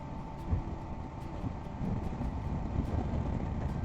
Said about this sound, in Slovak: Ale fúči ten vietor protivný